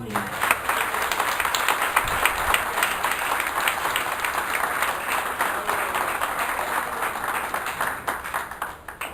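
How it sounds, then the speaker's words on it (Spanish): Sustained crowd applause at a Christian church service fills the whole stretch, dense and steady with many hands clapping, fading slightly at the very end. "Un aplauso al Señor"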